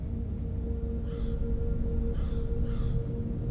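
Three short, hoarse crow caws come from a distance, spaced about a second apart and fairly faint over a steady low hum and background rumble.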